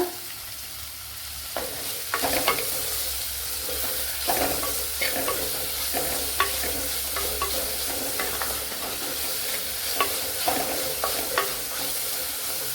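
Pumpkin curry ingredients sautéing in a pan with salt, a steady close sizzle broken by repeated scraping and stirring strokes throughout, with no voices.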